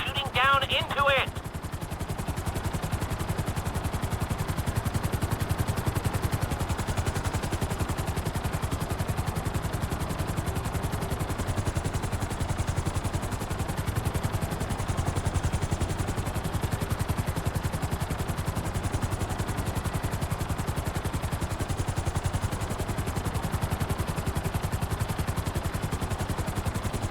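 A helicopter in GTA V hovers in a steady, loud rotor drone that runs throughout, with a brief higher tone near the start and voices talking over it.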